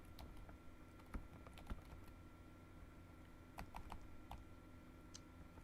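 Typing a name on a computer keyboard, soft scattered key clicks in short bursts, faint and close against a low steady room hum.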